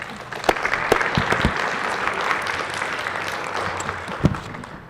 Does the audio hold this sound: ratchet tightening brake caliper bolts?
no